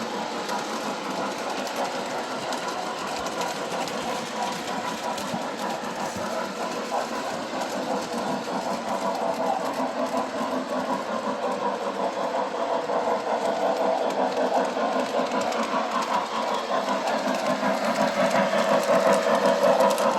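A steam locomotive runs with a steady mechanical engine drone and rapid rhythmic chuffing throughout, slowly growing louder as it approaches.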